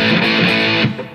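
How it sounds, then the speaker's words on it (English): An electric guitar rings through the distorted channel of an amplifier during a lesson on a song, a loud sustained fuzzy chord that fades out near the end. "On my amplifier, I'm just changing to a distorted channel on the amp."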